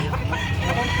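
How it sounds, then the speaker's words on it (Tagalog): A red Kelso gamefowl rooster with a long tail and red face clucks in a steady low run, close and fairly loud, with no talk over it. "Napakagwapong manok ha."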